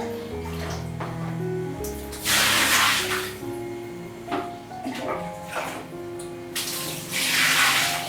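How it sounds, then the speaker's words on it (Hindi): Water splashes and gushes in several bursts as it is poured out of a bucket, the spills loud and close, with music playing steadily underneath throughout. "अब अगर पानी कुछ ठंडा हो गया है तो इस बाल्टी से कुछ पानी निकाल कर फेंक दीजिए।"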